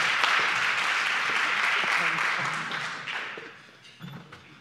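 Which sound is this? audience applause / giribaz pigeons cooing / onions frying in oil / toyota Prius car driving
audience applause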